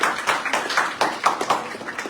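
Audience applause greeting a student speaker at a school event, a run of rhythmic claps rising and falling in bursts over a couple of seconds, fairly close with no voices over it.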